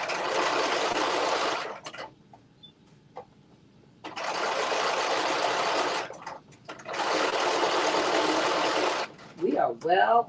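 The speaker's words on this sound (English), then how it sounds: "I'm going to sew the pocket down separately" Sewing machine stitching down a jumpsuit pocket, running in three long steady bursts separated by short pauses with small handling clicks, close and loud; a brief voice speaks at the very end.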